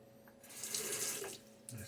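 Cool water runs from a tap into a bathroom sink during a wet shave, a soft steady hiss swelling for about a second, then easing, with a brief splash near the end.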